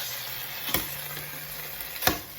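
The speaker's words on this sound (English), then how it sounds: "Mix the chicken, the tomato sauce, and the garlic and onions until it's evenly mixed." A spoon stirs chicken with tomato sauce, garlic and onions in a pan, a soft constant sizzle underneath, with two distinct scraping knocks against the pan.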